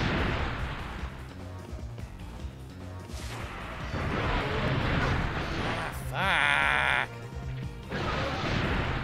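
Gunfire rings out as an enemy is shot in Dino Crisis 2. Several sharp, loud bursts punctuate dense game noise and creature cries, with a player talking over the action.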